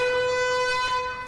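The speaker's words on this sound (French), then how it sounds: "Est-ce que c'est la sirène qui marque la fin de toute l'énigme?" A steady tonal alarm siren holds a single pitch with strong harmonics, loud and continuous, fading slightly at the end.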